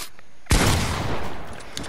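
A single booming blast from a double-barrel shotgun in the video game Fortnite, close and loud, followed by a rumbling tail that fades over about a second.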